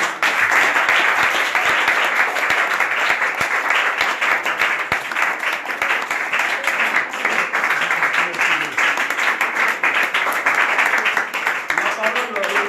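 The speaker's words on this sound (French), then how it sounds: "sous vos acclamations" A crowd greets a visiting deputy with sustained applause at a foundation reception, thick rapid clapping at a steady, fairly loud level for over twelve seconds, with faint voices beneath near the end.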